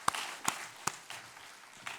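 A church congregation claps during a Sunday worship service, giving a few sparse, separate hand claps spread across two seconds, fairly faint with room echo.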